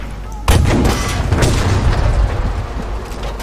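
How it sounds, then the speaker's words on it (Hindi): Battlefield V combat rumbles with a sudden heavy boom followed by scattered gunfire and artillery thuds, loud and continuous with distant battlefield noise. "और कहाँ से फायरिंग हो रही है?"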